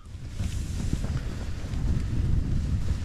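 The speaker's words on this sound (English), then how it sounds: "As you'll hear, the wind's blowing a bit." Wind gusts and roars against a tent at a freezing winter wild camp on a fell, a steady rushing noise that builds slightly with no voices.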